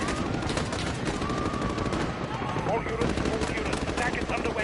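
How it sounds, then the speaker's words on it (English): Dense, continuous gunfire from the video game Modern Warfare, played as a campaign on PS4 Pro, with rapid automatic bursts sustained throughout at a steady loud level. "Who is shooting me?"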